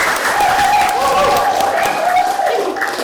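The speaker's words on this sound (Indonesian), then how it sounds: "Boleh tepuk tangan dulu deh." Middle school students in a talk show audience clap together in a full, continuous burst of applause, close and loud throughout, with a voice speaking faintly underneath.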